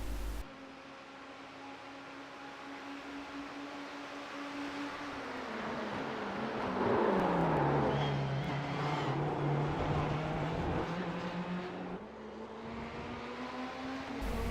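Ferrari GT3 race cars in a racing video game circle the Interlagos circuit with a steady engine drone whose pitch sinks and climbs as they shift and accelerate. The drone is moderately loud and continuous, with no talking.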